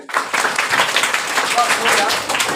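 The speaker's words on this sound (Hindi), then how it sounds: "ताली बजाइए" A class of students clapping together at a coaching session, with brisk, dense group claps and some voices mixed in over a short burst.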